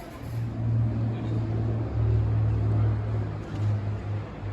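A steady, droning Rolls-Royce Merlin aircraft piston engine runs continuously at a low, throbbing pitch, fairly loud and unbroken, with a faint rumble of wind or background noise.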